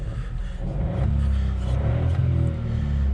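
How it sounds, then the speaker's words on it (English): The engine of a 2019 Hyundai Kona is revved from inside the cabin. A low rumble climbs and holds, with a couple of swelling revs, loud and steady and heard without any talk. "I'll just give you a few revs of the engine, so that you can experience the loudness"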